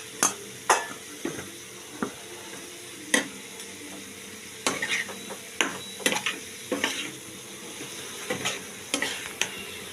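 Spice paste sizzles steadily in a pan while a spoon repeatedly scrapes and knocks against the metal in uneven, clattering strokes.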